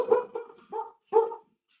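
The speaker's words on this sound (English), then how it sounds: "that was our dog" A household dog barks four times in an uneven series of short, fairly close yelps, with a brief silent pause before the last bark and quiet afterward.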